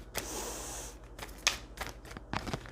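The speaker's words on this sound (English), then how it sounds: "One more shuffle" Tarot cards being shuffled in a few quick riffling bursts, close and fairly quiet, with soft card slaps and pauses between them.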